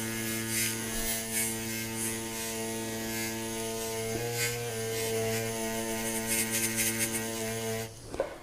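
A green nylon buff spinning on a power tool, passed gently over a metal surface for a satin finish: a steady, close motor whine with a sustained hum and faint grinding that shifts slightly in pitch before stopping abruptly.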